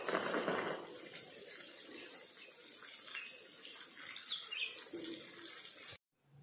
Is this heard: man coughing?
no